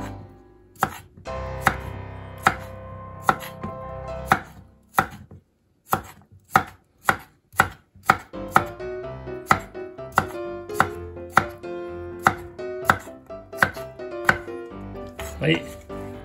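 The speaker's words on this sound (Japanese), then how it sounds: "きゅうりもですね、乱切りにします。" A knife chops cucumber into rough chunks on a cutting board, crisp close knocks at first spaced out, then settling into a faster, steady rhythm of about two cuts per second.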